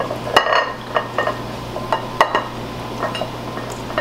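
A deep dish pot being handled for berries, with light metallic clinks and taps scattered over a few seconds against a steady background hum.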